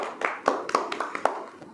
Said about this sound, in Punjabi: ਤਾੜੀਆਂ ਤਾੜੀਆਂ